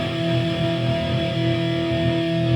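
Electric guitar run through a chorus pedal with drive switched on, a thick, sustained overdriven chord with a gentle wavering swirl, loud and continuous from start to finish.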